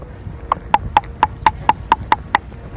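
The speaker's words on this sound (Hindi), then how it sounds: "यहाँ पर भैया पीछे कोई नहीं, मैं चला रहा हूँ घोड़ा अकेले।" A ridden horse's hooves clip-clop along an off-road mountain trail in Ladakh, with about nine evenly spaced, loud, close hoofbeats in a steady walking rhythm and no voices.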